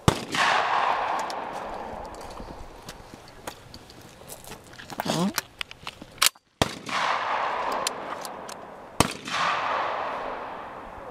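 Shotgun blasts at skeet clay targets on a shooting range, a few sharp loud reports spread across the stretch with echoing tails, with people talking outdoors between shots.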